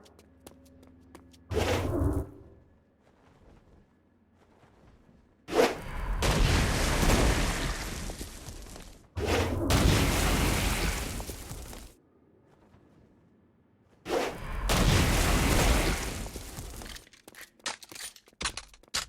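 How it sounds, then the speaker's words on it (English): Stone Blast attacks against demons in the Saints Row game Gat out of Hell: several loud, roaring blast bursts, each lasting a few seconds, separated by near-silent gaps. "Stone Blast is especially useful on flying demons like this one."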